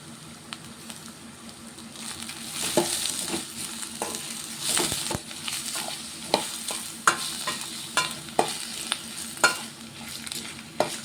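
Sliced bitter gourd, salted and rinsed, fries in a pan with a soft continuous sizzle while a spatula stirs and scrapes it in repeated clattering strokes that grow more regular toward the end.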